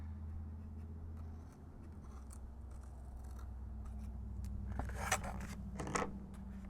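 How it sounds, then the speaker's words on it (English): Scissors trim a paper envelope in a small craft project, giving a few close, crisp snips and scrapes near the end over a steady low hum, with no talking. "I think I'm just going to use these scissors here rather than my X-Acto knife"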